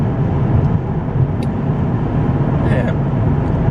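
Steady, loud rumble of a car cruising on a highway in light morning traffic in the dark, with road and engine noise filling the whole stretch and faint passing sounds on top.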